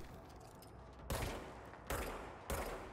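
Enemy gunfire in the video game Control, heard as three loud bursts of shots over a continuous, busy game soundscape.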